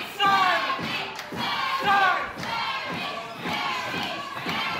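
A wrestling event crowd cheers and shouts in repeated loud surges, with excited voices, including children's, rising and falling in waves close by.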